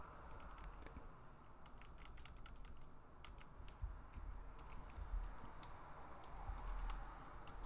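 Faint keyboard typing, scattered clicks and taps in an irregular patter over a low steady background hum, with no speech.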